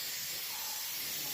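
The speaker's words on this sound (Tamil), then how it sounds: "ஸ்ப்ரே பெயிண்ட், குவாலிட்டியான ஸ்ப்ரே அடித்து ஃபுல்லாக பெயிண்டிங் வேலை கம்ப்ளீட் பண்ணி" White spray paint hissing steadily from a spray gun while a washing machine gets a full repaint, a continuous close airy hiss with no voices.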